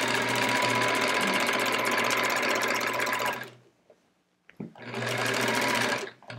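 A sewing machine quilts along the seam of a quilt border, running in a loud, steady hum for about three and a half seconds, pausing briefly with small clicks, then starting up again for another stretch.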